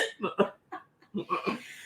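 A few short smoker's coughing bursts close by, broken by brief pauses, with a throaty, laugh-like quality.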